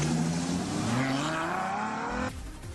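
A 651-horsepower V12 sports car engine accelerates hard, its pitch climbing steadily through a rising rev before cutting off abruptly near the end, loud and close with no talk.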